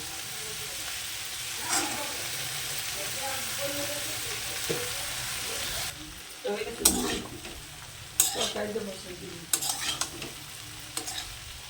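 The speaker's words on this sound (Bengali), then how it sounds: "এর মধ্যে আমি মটরশুঁটি দিয়ে দেবো।" Green peas tipped into cauliflower and potatoes already frying, a soft continuous sizzle that drops briefly, then sharper bursts of crackle and spatula scrapes as the peas hit the hot pan, close by.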